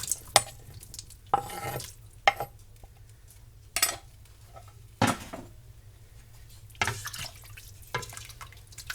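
Ham goes into a cooking pot for Cajun jambalaya, heard as a series of separate clattering, plopping knocks of food and utensil against the pot, spaced a second or so apart over a quiet background.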